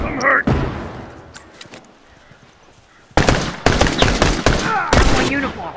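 Gunfire in The Last of Us: a few sharp isolated shots early, then dense bursts of rapid automatic fire in the second half, loud and close, with a shouted voice near the start.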